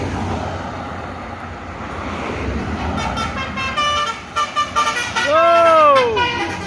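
Two Sumatera Barat (Sumbar) buses, a Hino and a Mercedes, chasing each other on the road, with rumbling engines, then short toots followed by a long, loud musical horn melody near the end, with a voice calling out over it.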